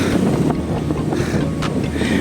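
Strong headwind against a cyclist roars and buffets the microphone continuously, a dense rushing noise with faint scattered clicks underneath.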